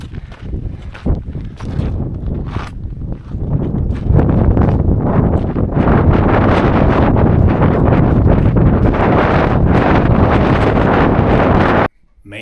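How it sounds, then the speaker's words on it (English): Strong wind gusts roar across the high, exposed ground of Muir Pass on the John Muir Trail, buffeting the microphone in loud, sustained blasts that build and stay heavy before cutting off abruptly. "it is blowing pretty hard out there and gusting probably 40, 50 mile an hour."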